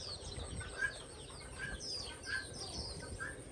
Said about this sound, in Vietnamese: Ở trong này thì nuôi mấy chim, mấy gà anh chị.